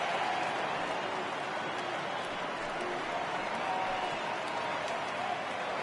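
Dense, steady roar of a baseball stadium crowd cheering in MLB The Show 18, over 39,000 fans on their feet, loud and continuous with no talk throughout.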